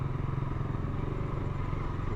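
A group of motorcycles idles and rumbles at close range with a steady, continuous low engine drone, and no pauses or revving peaks stand out.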